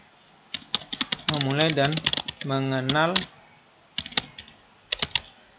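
Typing on a computer keyboard: quick runs of light clicks at the start and end, with a person talking in the middle.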